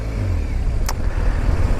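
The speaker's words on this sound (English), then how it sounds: "So I'm stuck in rush hour traffic here in just on the ring road, I think, of Belfast." Rush hour traffic on the Belfast ring road rumbles as a steady low engine drone from inside a slow-moving car, with a faint brief high squeak partway through.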